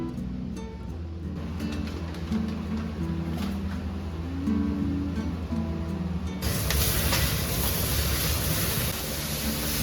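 Pork ribs laid on sweet potato steam in a steamer over high heat, giving a steady soft rushing hiss that swells noticeably louder and brighter partway through.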